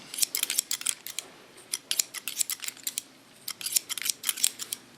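Scissors snip through hair during a man's haircut, quick bursts of crisp metallic clicks in uneven clusters, close and fairly quiet.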